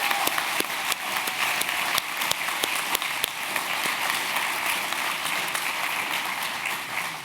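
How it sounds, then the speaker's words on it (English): Audience applause at a Stanford Online High School awards ceremony for course certificate winners: sustained clapping from many hands, dense and even, with a few sharper individual claps standing out near the start. "Could we have a round of applause for course certificate winners"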